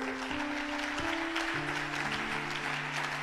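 A church congregation claps for God after a preacher's call, a dense, steady burst of applause that fills the room, with a sustained organ or keyboard tone underneath.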